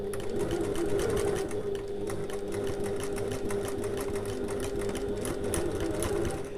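A sewing machine stitches a tote bag with a steady, fast mechanical whirr and rapid needle clatter that runs unbroken for several seconds, close and moderately loud with no talking.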